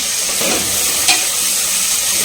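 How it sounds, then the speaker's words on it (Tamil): Onions fry on a high flame for goat trotter paya, with a loud, steady hiss of oil that runs without a break and one brief scrape of stirring. "ஹை ஃப்ளேம் பண்ணிவிட்டு ஸோ வெங்காயம் வந்து நல்லா வதங்கட்டும்"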